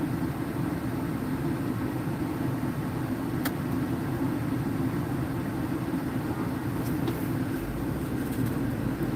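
Constant low road rumble of cars and trucks passing, a dense steady drone with a faint passing swell near the end and a brief click in the middle, no voices.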